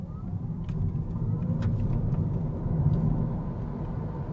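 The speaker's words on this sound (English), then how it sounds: "let's go to the sports mode and see the instant acceleration of this electric vehicle." A Peugeot e-208 electric car accelerates in sport mode, a steady low road rumble and tire noise heard from inside the cabin with a faint rising whine and a few soft clicks.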